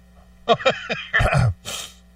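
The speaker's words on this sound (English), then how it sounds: "It was a sneeze." A single sneeze with a sharp intake of breath beforehand, close and fairly loud, followed by a short exhaled burst.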